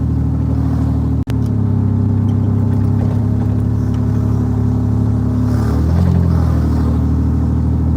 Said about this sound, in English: Hear how loud my engine is. GMC Sonoma 2002. Still running.